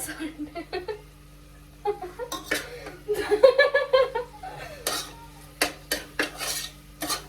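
A spatula scrapes and clinks against a pan as food is stirred and sautéed until brown, with intermittent metallic taps and scrapes, while people talk and chuckle nearby.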